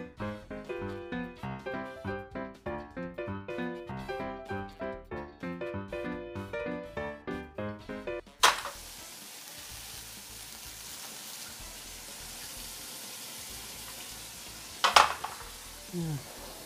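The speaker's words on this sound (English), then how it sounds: "Get it on there, wait for it to heat up, and coat the pan and start sauteing them up." Crickets sautéing in avocado oil in a pan, a steady soft sizzle running on alone after a stretch of background music, with a couple of sharper scrapes of stirring near the end.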